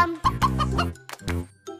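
A few short, synthetic-sounding chicken clucks in Jurassic World Evolution 2 in quick succession, clear and close, with a brief pause between bursts.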